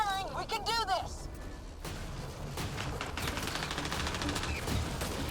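Sustained automatic gunfire in Mass Effect Andromeda, a dense rapid stream of shots under a voice, with warbling sci-fi tones at the start.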